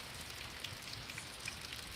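Steady rain falls on surfaces during a thunderstorm in Pittsburg, Kansas, a dense constant patter with scattered nearby drips, no voices.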